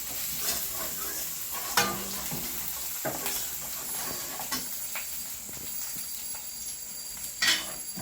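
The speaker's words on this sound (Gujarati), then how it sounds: "તેલમાં જીરું નાખીને હિંગ નાખીને આદુ મરચાંની પેસ્ટ નાખી છે અને પછી ડુંગળી નાખી સારી પાકવા દેવાની" Onion frying in oil with cumin, asafoetida and ginger-chili paste for aloo paratha filling, a steady close sizzle with occasional stirring scrapes and small pops throughout.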